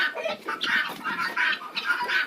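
A speckled hen clucks in a dim chicken coop in winter, close by with steady repeated phrases and no talking.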